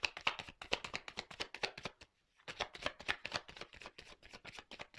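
Tarot cards are shuffled and drawn by hand, a close, quiet run of rapid papery riffles and flicks with one short pause partway through, with no voices.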